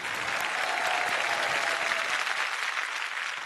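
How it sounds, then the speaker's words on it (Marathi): Loud, sustained applause from a studio audience for the band on a Marathi television singing competition, a steady dense wash of clapping throughout. "आणि एकदा जोरदार टाळ्या होऊन जाऊ द्या की आपल्या मंडळाच्या बँडसाठी."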